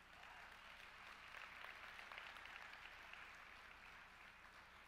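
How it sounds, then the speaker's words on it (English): Audience applause at a church winter conference in Dallas, a soft, steady wash of clapping holding evenly for several seconds, faint and distant. "I'm so glad you clapped for that"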